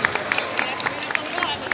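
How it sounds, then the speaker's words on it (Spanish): Shoppers at the Metrocentro mall clap for the winners of a contest, scattered quick claps under a hubbub of crowd chatter, short and moderately loud. "Fuerte el aplauso para los ganadores"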